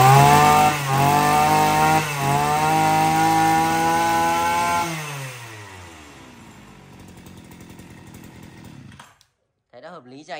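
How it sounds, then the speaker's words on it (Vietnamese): A small 36 mm brush cutter engine screams at high revs for several seconds, then drops to a lower idle, sputters and cuts out near the end. "Đấy giờ test thử cho anh em nghe qua này. Con này thì nòng 36 ly vừa phát cỏ à"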